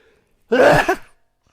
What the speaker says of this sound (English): I'm gonna sneeze, by the way.